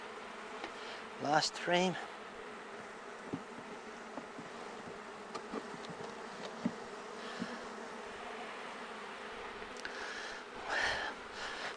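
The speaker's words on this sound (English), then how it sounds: "these are stingless, very, very nice bees" Stingless bees buzzing around an open hive box during an inspection, a faint steady drone with a few louder passes as individual bees fly close.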